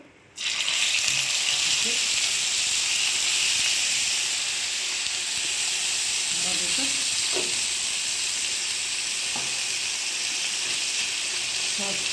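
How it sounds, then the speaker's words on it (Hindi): Mutton kabab frying in leftover butter on a hot tawa, a loud steady sizzle and hiss that starts abruptly and carries on throughout, with faint clinks and a few quiet voices underneath. "जो बचा हुआ है बटर डाल दिया इसमें तवा पे।"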